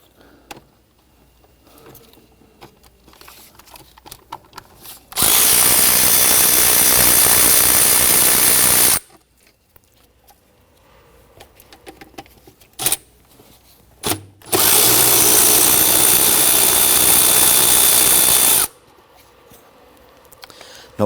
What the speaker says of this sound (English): Now I want to go ahead and unbolt our fuel rail.